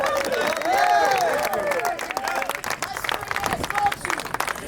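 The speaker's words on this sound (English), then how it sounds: "Round of applause for Kenneth." A convention crowd at the 2016 Republican National Convention in Cleveland applauds, scattered clapping and cheering mixed with crowd noise and a voice speaking over it, loud and close for a few seconds.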